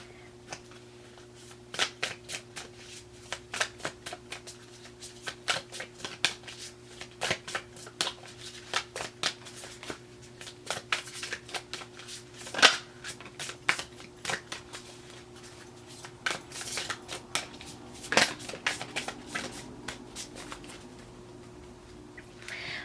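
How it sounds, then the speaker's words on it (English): A deck of affirmation cards is shuffled by hand in a quiet room, repeated soft riffling flicks and taps in irregular bursts, close and fairly quiet over a faint steady hum. "I'm going to pull a couple of affirmation cards"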